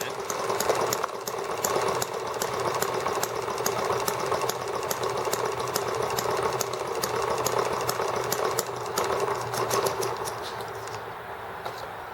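Small ET8 gasoline engine running a little rich on diluted fuel, a steady buzzing, rattling drone that holds at even loudness close by for about ten seconds before easing slightly at the end.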